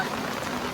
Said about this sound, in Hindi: गेट बंद करो जल्दी, बारिश हो रही है बहुत तेज बारिश हो रही है।